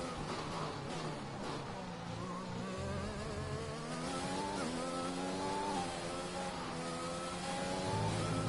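F1 race car engine in the F1 2021 racing game, a steady, continuous high-pitched whine with rising and falling pitch sweeps as the car accelerates and shifts, loud and up close with no talk over it.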